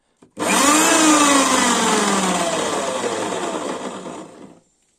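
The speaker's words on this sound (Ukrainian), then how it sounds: "Ось так дрелькою крутиться і можна пиляти." An old electric drill spins a shaft to turn a pulley on a Shifeng 240 minitractor drive part. A loud, close motor whine rises quickly, holds steadily for about four seconds, then cuts off.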